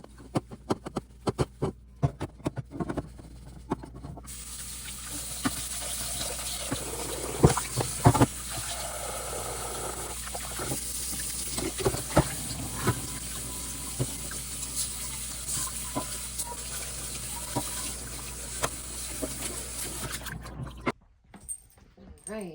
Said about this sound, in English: I scrub and scrub and rinse and rinse